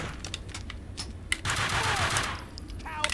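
Enemy gunfire in the shooter game Max Payne 2 rattles in loud, rapid bursts of shots and a sustained fusillade, with crackling impacts and a voice faintly present beneath.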